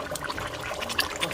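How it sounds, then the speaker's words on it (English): Water pouring from a cup into a pot of croaker fish stew, a brief, soft liquid splash and trickle close by. "I added a cup of water"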